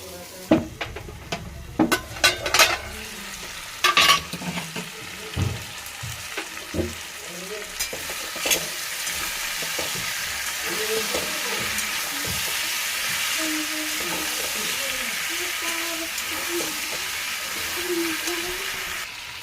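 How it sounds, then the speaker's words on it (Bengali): Pumpkin, potato and pointed gourd being stir-fried in hot oil, with loud clattering spatula strokes early, then a dense, steady sizzle that continues throughout. "এগুলো কষানোর সময় মানে তেলে কষিয়ে তুলে তেলে কষিয়ে নিলে ভালো লাগে"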